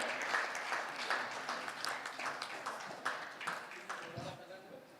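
Audience applause for award recipients at a startup ecosystem summit and awards event, a sustained round of dense clapping that gradually thins out toward the end, with talk mixed in.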